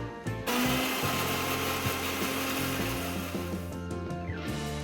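Soaked spices for khichuri being ground into a paste in an electric grinder, a loud whirring motor buzz that starts abruptly, runs steadily with shifting pitch, and cuts off near the end.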